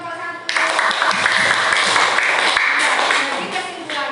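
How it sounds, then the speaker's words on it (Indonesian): A classroom of students claps for a student group after their science presentation on sound travelling through gas; dense, lively clapping bursts in at once and carries steadily to the end, with some children's voices mixed in. "tepuk tangan buat kelompok satu"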